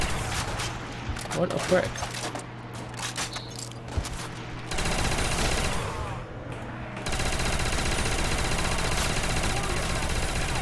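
Rapid bursts of gunfire from shooting zombies on a custom map in Call of Duty: World at War, a dense run of shots under a man's brief spoken remark, with a steady low hum throughout.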